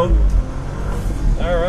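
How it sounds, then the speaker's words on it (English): A 2014 BMW 435i convertible's turbo engine accelerating hard on a hot lap, a brief surge of engine roar that is partly masked by voices talking inside the car. "Oh yeah, that turbo."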